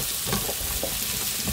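Apples and onions fry in butter in a pan, giving a steady, close sizzle broken by a few soft stirring scrapes, with no voices.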